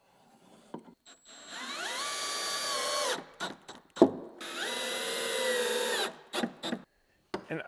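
A power drill drives GRK screws up from underneath into wood during a tool trailer build-out, whirring in two long, loud bursts that climb in pitch, with a few short blips of the trigger between and after.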